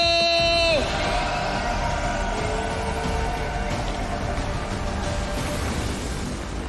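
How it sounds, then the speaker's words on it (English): A large esports crowd at the StarCraft II WCS Fall 2019 quarterfinals roars with cheers and applause, loud and sustained. A brief musical sting fades out at the start, and the crowd noise then dominates the rest. "Give a round of applause for Stephano!"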